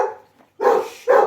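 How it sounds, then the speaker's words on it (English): Chester the dog gives two loud, close barks in quick succession, each short and sharp, with a brief quiet gap between them and a softer trailing sound at the start. "He barks for everything."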